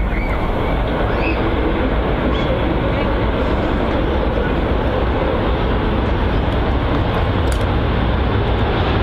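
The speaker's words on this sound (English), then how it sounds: "I just still can't get over how the sound of that 767. So loud" A KLM Boeing 767 lands at Manchester Airport with a loud, continuous roar of engines and rushing air. The dense noise stays steady throughout, close and powerful, with no pauses.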